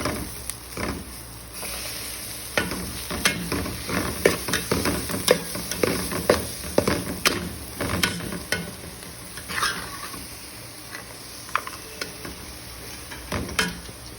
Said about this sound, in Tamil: ஆனியன் நல்லா ப்ரௌனிஷ் கலர் வந்ததுக்கப்புறம் இதில் வந்துட்டு கேஷ்நட் ஆட் பண்ணியிருக்கேன்